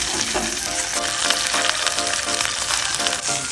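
Padron peppers frying on a barbecue grill, a loud, dense and continuous sizzle with crackling pops throughout, close up.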